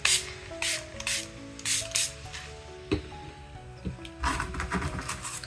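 Ink from a spray bottle hits a journal page in several short, sharp pchit bursts at close range, with light rubbing noises and soft background music between them.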